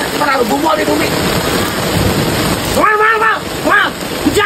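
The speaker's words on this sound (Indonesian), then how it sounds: "Wah, hujan." Steady rain pours outdoors for several seconds, a dense broadband hiss that stays loud throughout, with people talking over it toward the end.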